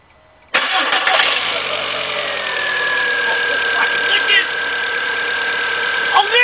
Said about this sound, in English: Look at that engine run!